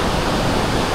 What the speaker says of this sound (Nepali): अब यहाँ झरना देखाउँदैछु म।